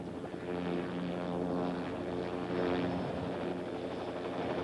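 Bell OH-58 helicopter engine running steadily with a continuous turbine whine and rotor drone, loud and close, with no talk.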